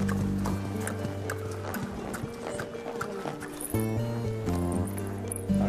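Horse walking in an indoor riding arena, hooves clip-clopping in a slow, regular rhythm close by, with background music playing throughout.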